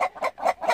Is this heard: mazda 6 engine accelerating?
no